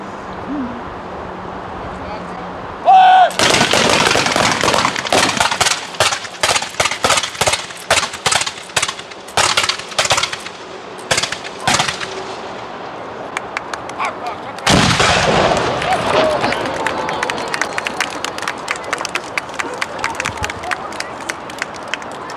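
Soldiers at Fort York fire musket volleys in a ragged series of loud, sharp cracks, most dense between about three and twelve seconds, then another burst of shots with rolling echo, and a commander shouts orders.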